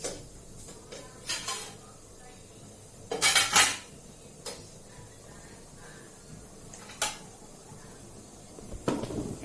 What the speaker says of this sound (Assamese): তথাপিতো মই চাউলটো এবাৰ লৰাই দিওঁ